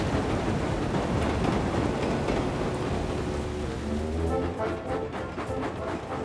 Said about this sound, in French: Cela fait plusieurs jours qu'il pleut sans discontinuer sur Chicalor.